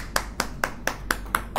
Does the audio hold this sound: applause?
yes